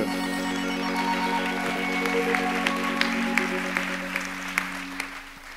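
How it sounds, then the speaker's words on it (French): Applause from a theatre audience greeting a choreographer onto the stage during a season presentation, a steady wash of clapping over a sustained musical tone, with a few sharper claps standing out. "On peut l'applaudir."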